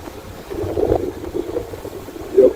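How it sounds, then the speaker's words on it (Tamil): Big sea waves surge and slap around a small boat on a boating trip at Kanyakumari, India, with gusty wind buffeting the microphone and swelling loudest near the end. There is no talk. "எவ்வளவு பெரிய வேவ்ஸ் பாருங்க."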